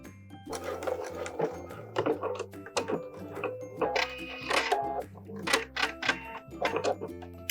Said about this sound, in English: going over to the machine and sewing these three edges all together